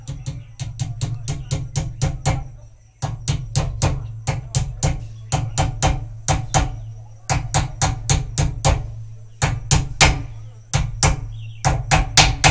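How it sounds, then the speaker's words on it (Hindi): Steady light hammer taps seat a Pulsar 150 cone set into a Bajaj Boxer wheel hub, ringing metallic strikes in quick rhythmic bursts with short pauses between groups, loud and close, with no talking. "हथौड़ा मारेंगे तो चला जाएगा धीरे से, हल्का सा हथौड़ा मारना है, हल्का हल्का करें।"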